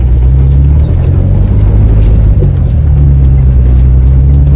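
A Jeep climbs a steep dirt trail in the Sierra with lockers engaged, its tires spinning. A loud, close engine drone labors steadily throughout, with small shifts in pitch as it strains.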